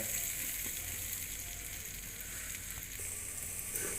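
Onions fry in a pan with a steady, soft, continuous sizzle that stays close and even throughout, with no talk.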